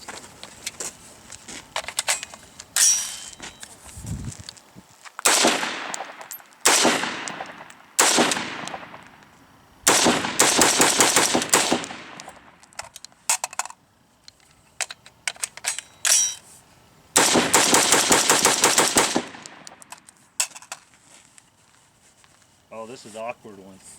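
AR-15 rifle gunfire at close range, loud, sharp shots fired singly and in rapid strings, with pauses between groups and some speech in between.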